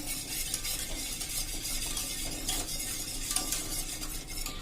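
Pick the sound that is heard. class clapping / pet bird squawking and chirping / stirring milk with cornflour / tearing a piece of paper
stirring milk with cornflour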